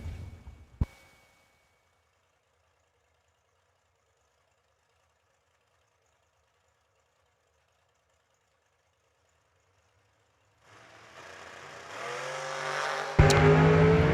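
Race Tech chassis drag race cars, 2002 and 2015 models, launching at a New Year Nationals drag race: a brief knock, long silence, then engines swell and roar into a loud, close burst at the launch.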